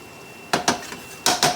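Strained pasta being stirred in a pan with olive oil: two pairs of sharp metallic clanks from a utensil striking the pan, close and loud, with quiet between them.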